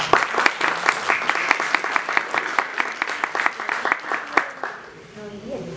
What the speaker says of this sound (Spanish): para que pido por favor un aplauso